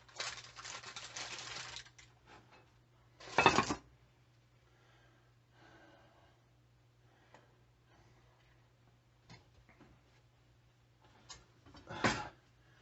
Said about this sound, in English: So we've got that in our Dutch oven with the lid on. We're going to put it back in the oven.